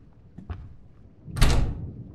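A door opens in a horror video game: a couple of faint clicks, then a single louder creaking, scraping swing that fades out.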